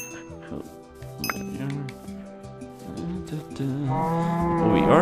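Blocky video-game cows in Minecraft moo repeatedly amid other farm-animal game sounds, with a voice talking over much of it and the lowing growing louder toward the end.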